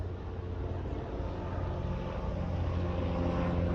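Helicopters flying through the Kedarnath valley make a steady, loud rotor drone that fills the air evenly, with no talk heard.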